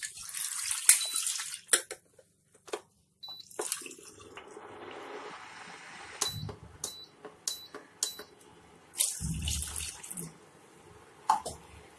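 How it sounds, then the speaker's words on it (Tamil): Water is poured into a vessel while preparing wheat milk vadagam, with irregular splashing and trickling bursts that stop and start, some louder gushes near the end, and no talking. "இப்போ தண்ணி வந்து இதுல 2 கப் தண்ணி இதுல ஊத்தணும்."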